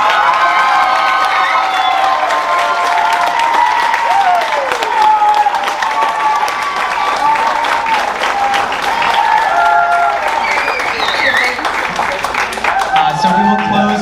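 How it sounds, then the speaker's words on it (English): Loud, sustained applause and cheering from an audience at a school music awards evening as the seniors sit down. Dense clapping mixes with whoops and children's shouts for the full stretch. "let's give them one big last round of applause."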